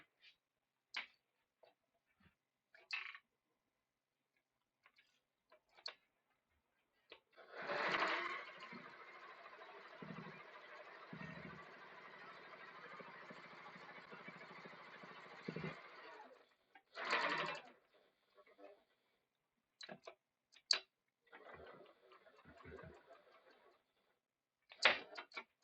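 A sewing machine runs a straight seam on a bag in one steady whirring burst of about eight seconds, with shorter stitching bursts, clicks and handling noises before and after in an otherwise quiet room.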